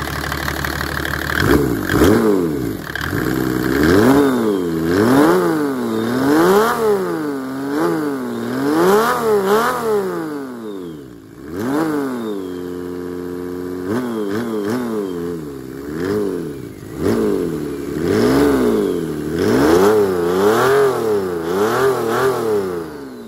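A Mercedes OM606 diesel engine with a billet intake and its intake lid removed revs up and down repeatedly with a raw, open intake roar, rising and falling in pitch for over twenty seconds, loud and close.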